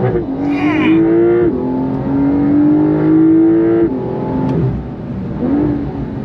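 A Porsche 911 GTS accelerating on throttle through a winding road, engine pitch climbing through several gear pulls with brief shifts between, loud and close from inside the car.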